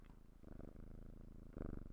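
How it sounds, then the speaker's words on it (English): A content cat purrs on a lap, a low rhythmic rumble in soft pulsing bursts, close but quiet, with no talk. "My little anti-government kitty purring and sitting here"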